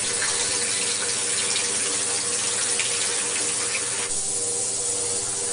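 Tap water runs steadily into a sink as jewelry is rinsed under the stream, a loud, continuous hiss and splash lasting the whole stretch with no voices.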